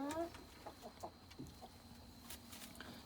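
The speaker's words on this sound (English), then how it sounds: "Chickens are all doing good." Backyard hens clucking in short, scattered calls at a distance, faint over a steady low hum, with one higher squawk near the start; no voices.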